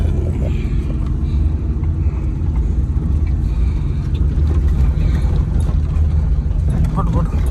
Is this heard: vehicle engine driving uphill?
yes